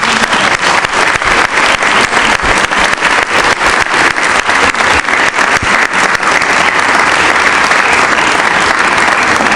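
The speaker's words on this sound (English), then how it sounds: "Please join me once again in giving all our honorees another round of applause." A large audience at an awards ceremony applauding steadily and loudly throughout, dense continuous clapping with no voices standing out.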